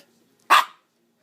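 A Yorkshire terrier gives one sharp, high bark, close and loud, then quiet.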